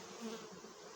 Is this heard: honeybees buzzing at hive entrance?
yes